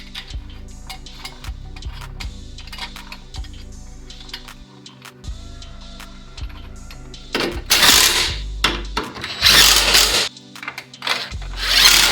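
A power tool drives bolts to fix a jack plate onto a Subaru cross member during a steering rack job, with loud short bursts of whirring and rattling near the end after quieter ticks and clanks of work.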